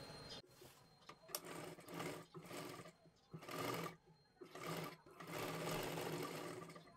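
A sewing machine runs in repeated bursts with brief pauses while stitching the front of a young girl's lehenga dress, the motor whirring close and fairly quiet, with no voices.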